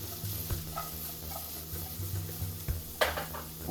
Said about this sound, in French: On commence avec le céleri parce que c'est le légume le plus dur à faire cuire.